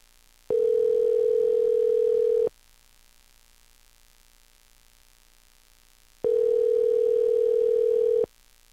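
Two long steady telephone ringback tones, each about two seconds, separated by a roughly four-second pause before a call goes to voicemail, loud and clean with no voices.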